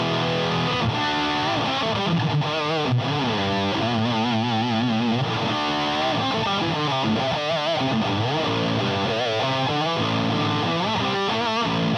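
Electric guitar played through an Electro-Harmonix Metal Muff distortion pedal with treble turned well up, giving heavily saturated, loud riffs and sustained notes that run continuously without pause.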